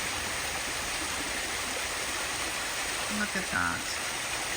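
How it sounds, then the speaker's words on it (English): A flowing creek swollen by flooding beside a garden runs as a steady, close rushing wash throughout, with a brief spoken remark over it near the end. "One thing that you have to see and hear is the creek, which of course is why the flooding is happening."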